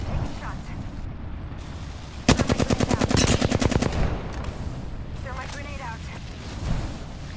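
A loud automatic burst of video game gunfire, a fast string of closely spaced shots lasting nearly two seconds, cuts through steady background noise, with faint in-game voice chatter heard around it.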